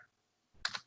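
Computer keyboard being typed on, two or three quick close key clicks at the very end of a near-silent moment, quiet and alone.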